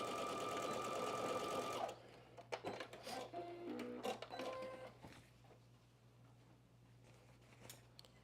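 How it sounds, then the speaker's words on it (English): A sewing machine runs fast and fairly loud for about two seconds while sewing the main fabric and sleeve stay of a McCall's 8386 top, then stops, leaving soft clicks, handling sounds and a steady low hum. "I'm going to be back stitching at the beginning, and at the end, I am sewing the main fabric followed by the sleeve"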